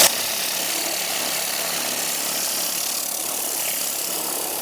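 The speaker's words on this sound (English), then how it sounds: "the beauty about the Tornador is when I'm going like this and I've just got that valve off, I'm basically drying it" A Tornador air cleaning tool blasts a continuous, loud hiss of compressed air while drying a car's engine bay, steady and unbroken throughout with no speech.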